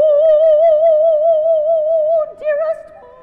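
A single voice sings one long, wobbly held note with heavy vibrato, imitating older church choir ladies. It is close and loud, then breaks off into a short dip and a lower fragment.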